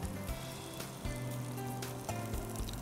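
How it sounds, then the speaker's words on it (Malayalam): Paneer with masala frying in a pan, a steady close sizzle with crackling spatters and a few soft scraping bumps, with no voices. "അപ്പോൾ ഇതൊന്ന് ഫ്രൈ ആയി വരട്ടെ."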